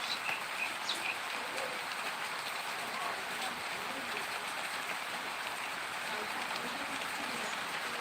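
Heavy rain pours steadily, a dense, even hiss of drops on surfaces that holds without a break, fairly soft in level, with a few faint bird chirps near the start.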